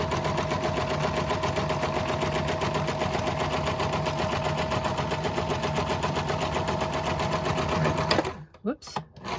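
A sewing machine stitches a hinged folder, running steadily and loud in a continuous whirring drone with fast regular needle pulses for about eight seconds, then stops abruptly and leaves a few faint handling noises.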